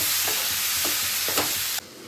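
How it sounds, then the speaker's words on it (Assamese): Whole cumin and coriander seeds frying in a pan give a loud, continuous sizzle, broken by a few spatula stirs, before the sound drops suddenly to a quieter hiss near the end. "এই গোটেই সামগ্ৰীখিনি মই ইয়াত দি দিম একেলগে এইখিনি ভাজি থাকোঁ"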